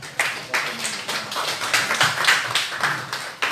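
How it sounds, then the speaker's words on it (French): A church congregation claps together in a brief burst of applause at a religious teaching service; the claps are dense and moderately close, with no talking over them. "on applaudit les deux justes"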